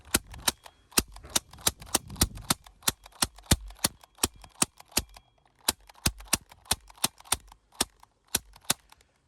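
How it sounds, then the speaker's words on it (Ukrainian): Sharp, snappy shots from a Crosman C11 plastic air pistol dry firing one after another in a fast, steady rhythm, about two or three per second, close and crisp with no talking. "Друзі, вже біля 100 просто в холосту."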